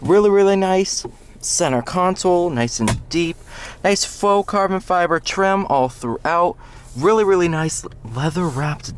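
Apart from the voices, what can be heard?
None of the usual background noises is heard.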